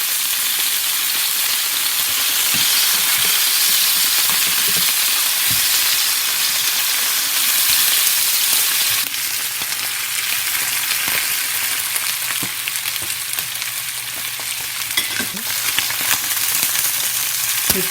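Salmon pieces fry in oil in a pan for a pan-seared salmon sauté, a loud, steady, dense hiss that keeps going throughout with faint clinks of utensils.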